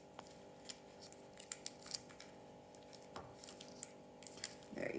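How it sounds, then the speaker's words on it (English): Scissors snip the ends off paper for a handmade floral bee card, a series of quiet, crisp cuts scattered over a few seconds, close up in a calm room. "I'm just going to cut the ends off"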